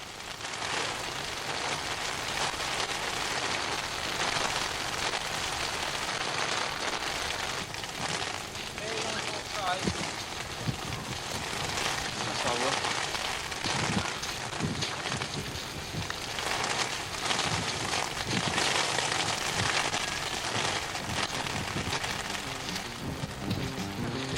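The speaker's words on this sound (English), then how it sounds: "Lower down, it's still raining, but things are beginning to improve." Steady rain falls and patters on surfaces during a mountain marathon, a dense continuous hiss, while someone speaks over it for much of the time.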